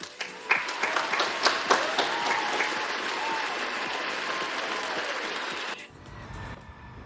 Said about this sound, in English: The first applause.